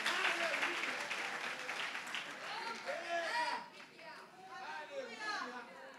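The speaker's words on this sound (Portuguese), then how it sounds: "Dá uma salva de palmas para Jesus." Congregation clapping and cheering at a church service, a dense steady wash of hands with voices calling out over it throughout.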